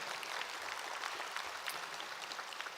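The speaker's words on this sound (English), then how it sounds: "let's give them a big round of applause for their leadership and promotion of health" An audience at a tribal public health conference applauds tribal leaders, with steady, fairly faint clapping from a crowd heard at a distance for the whole stretch.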